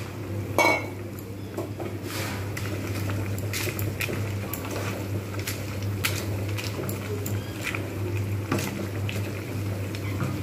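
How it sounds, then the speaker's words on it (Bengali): Vegetarian papad curry with kasuri methi simmering in a pot, a soft steady bubbling hiss with occasional faint clinks of utensils, no talk. "ব্যাস, এটা ফুটতে শুরু করেছে।"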